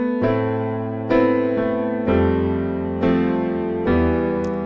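A piano plays a melody, with five notes or chords struck about a second apart, each ringing into the next, close and unaccompanied by speech.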